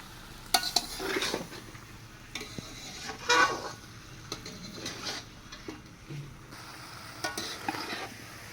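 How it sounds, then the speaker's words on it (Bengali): Elephant foot yam and fish curry masala being stir-fried in a pan, with steady sizzling and repeated scrapes and clinks of a spatula against the metal, loud and close with no talking. "কত সুন্দরভাবে কষানো হচ্ছে একবার দেখুন"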